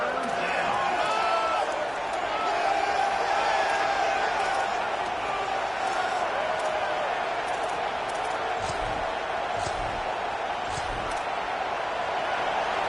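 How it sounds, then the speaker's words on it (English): A home crowd in a College Football video game roars as the defense tries to get off the field on third down, a dense, sustained wash of cheering with a commentator's voice over it. "Here comes this home crowd as the defense tries to get off the field on 3rd down."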